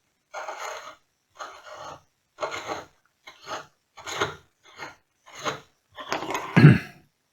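Blade of an Alberti tool skiving a wooden peg shank down to its collar, heard as eight rhythmic dry rasping strokes, each about half a second long, with the final stroke loudest and closest.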